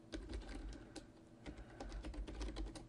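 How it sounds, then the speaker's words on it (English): Fingers tap a computer keyboard in quick, uneven bursts of close clicking keystrokes, faint over a low background hum, with no voices. "This time, type something new."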